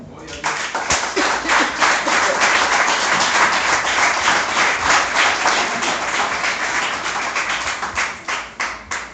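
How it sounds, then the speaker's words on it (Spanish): A church congregation applauds during a pastor's sermon: dense, sustained clapping from many hands fills the room, steady and loud with a few voices mixed in. "Denle un aplauso al Señor."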